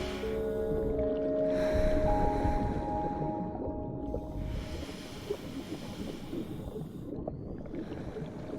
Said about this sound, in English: your own breath is the soundtrack of your dive.